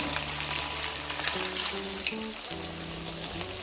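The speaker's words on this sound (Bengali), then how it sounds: "তেলটা বেশ গরমও হয়ে গেছে এখন আমি একটা একটা করে টিকিয়াগুলো তেলে ছেড়ে দেবো" Suji aloo tikki, semolina and potato patties, dropped one by one into hot oil, giving a steady close frying hiss with small crackles and pops, no one talking.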